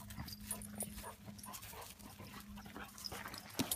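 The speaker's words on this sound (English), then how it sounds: "they're all just puppies running around outside" Young puppies outside for the first time, panting, whimpering and yipping faintly as they run around, under steady outdoor background noise.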